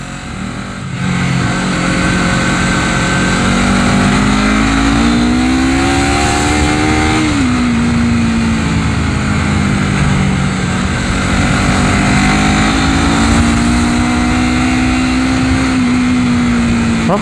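A Honda CBR250RR motorcycle on its stock racing exhaust revs up and eases off, its loud engine tone climbing, dipping and rising again in a long continuous drone with no talking.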